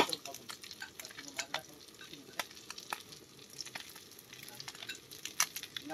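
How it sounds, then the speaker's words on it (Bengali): Marinated fish and crabs dusted with chilli powder frying in oil outdoors, a quiet crackling sizzle with sharp popping spatters scattered irregularly over the whole stretch. "এগুলোকে এবার ভাজা হবে।"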